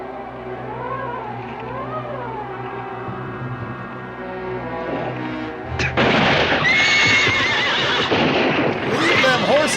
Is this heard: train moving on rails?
no